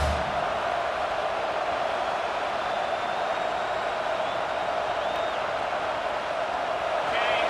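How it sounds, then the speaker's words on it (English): A large stadium crowd in the video game EA Sports College Football 26 roars steadily in a constant, full wash of noise that stays loud and unbroken throughout. "This crowd, full throat, splitting the eardrums"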